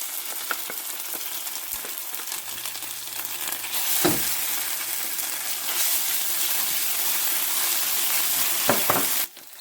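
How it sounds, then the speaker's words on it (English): Onions with ginger garlic paste frying for Pakistani keema, a steady close sizzle running throughout with occasional stirring scrapes and a brief louder burst partway through. "I'm going to fry this up some."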